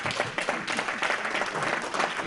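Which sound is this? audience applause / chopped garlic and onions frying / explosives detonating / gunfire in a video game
audience applause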